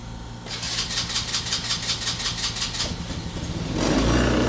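An abandoned go-kart's small carbureted engine, with no choke and barely any fuel, cranks in a fast, steady rhythm of repeated pulses for about three seconds, then gives way to a louder, rougher rumble, close and loud.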